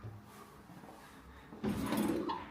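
A cutlery drawer in an apartment kitchen slides open with a sudden rattling, scraping rush after a quiet pause, fairly close and heard without talk.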